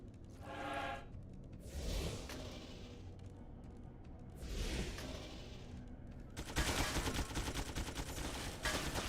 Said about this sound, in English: Sentry guns!